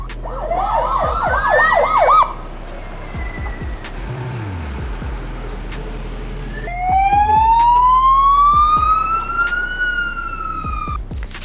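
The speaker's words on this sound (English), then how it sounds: "That'll be all those sirens I could hear." Emergency sirens wail in the distance, one yelping rapidly, then a long rising and falling wail, over low steady engine rumble and traffic noise.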